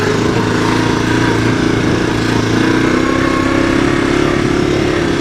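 A 1985 Honda ATC 250SX three-wheeler engine drones loudly and steadily while being ridden, a dense, continuous mechanical roar close up with no pauses or voices.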